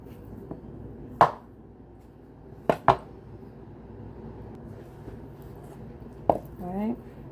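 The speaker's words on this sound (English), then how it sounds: "go ahead and give it nice thin slices like this that we will eventually cut down into strips" A knife cuts a raw pork loin into thin slices on a cutting board, a handful of sharp, isolated knocks spaced seconds apart over a quiet kitchen background, with a faint voice near the end.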